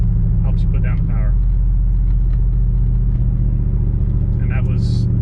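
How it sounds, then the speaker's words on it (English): A car with a Coyote engine swap and 4-link rear axle drops from second to first and rolls onto the power, a heavy, continuous engine rumble close by, with someone talking over it. "that was a 2-1 downshift, so the way it rolls on the power, it jumps right into the power band"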